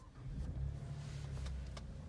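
A 2019 Alfa Romeo Stelvio Quadrifoglio engine catches and settles into a steady, deep idle rumble heard from inside the cabin, with a few faint clicks on top and no talk.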